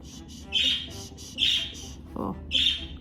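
A pet bird squawks three times in short, loud bursts at a steady rhythm, close by indoors over a low rumble, with a brief thump between the later calls.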